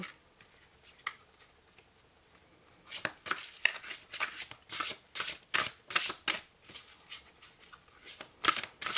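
Oracle cards from a sacred-traveller deck being shuffled by hand: soft, quick riffling bursts repeating in an uneven rhythm, quiet at first and then louder and steadier, close by with no talking.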